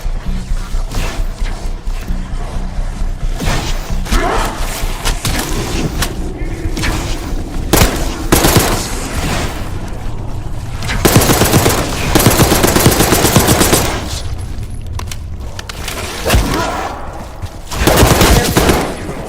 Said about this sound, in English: Gunfire? Yeah, sounds like it's coming from one of the lower floors.